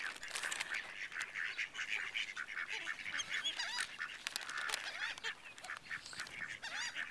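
A flock of ducks being fed keep up busy, overlapping quacks and honks, fairly faint but constant throughout.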